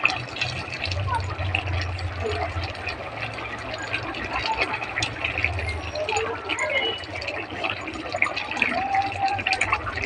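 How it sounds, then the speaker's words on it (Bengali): Potato and vori vegetable curry bubbling and simmering in a pot, a continuous close wet boiling sound with someone talking over it. "আর একটু ফুটবে, ফুটলেই কিন্তু হয়ে যাবে নিরামিষ, উপকারী নিরামিষ ঝোল।"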